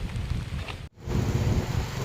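Steady heavy rain from Typhoon Kristine pours down in Gumaca, Quezon, a dense, continuous hiss, briefly cut off before resuming just as strong.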